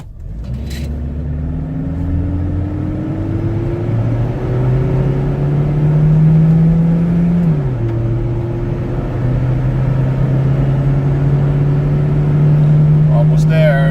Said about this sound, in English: I think this is the slowest 0 to 100 car out there.